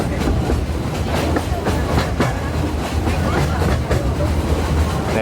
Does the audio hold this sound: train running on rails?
yes